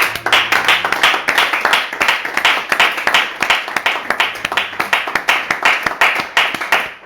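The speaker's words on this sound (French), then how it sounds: "Nous allons dire Amen en acclamant Jésus-Christ." A church congregation claps and cheers together in acclaim during a French-language prayer service, the applause dense, steady and loud throughout with rhythmic hand claps.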